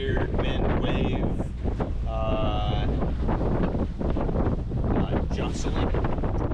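Wind buffets the microphone on a boat at the eastern end of the Caicos Bank, a loud, constant rumble under a person's talking.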